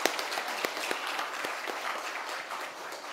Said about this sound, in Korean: 크게 영광의 박수를 보겠습니다